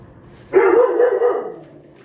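A single sustained dog bark or drawn-out yelp, loud and close, lasting about a second after a brief quiet start.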